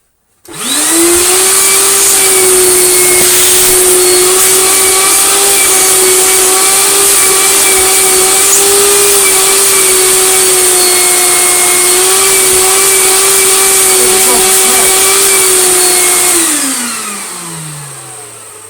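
A Goblin AquaVac 620 wet and dry vacuum cleaner with a 900-watt motor whines loudly and steadily with a high-pitched tone for about fifteen seconds, then winds down as it switches off.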